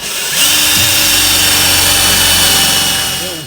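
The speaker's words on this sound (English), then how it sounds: "we're having to bore on each side. So now we've made us a mark, and we've got us a pilot hole started over there." A power drill bores a pilot hole through the cross member of a 1967 Ford truck during a stainless exhaust install, a loud, steady, close whine that holds for about three seconds.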